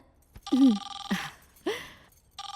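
A phone ringtone sounding in repeated electronic bursts with pauses between, fairly close and loud, with a voice briefly heard between rings.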